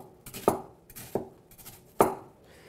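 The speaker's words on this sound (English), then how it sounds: "The root end is going to keep the onion intact while I dice it." A knife dices an onion on a cutting board in a home kitchen, three crisp, separate chops against the board with soft slicing between them, close and clear, no speech.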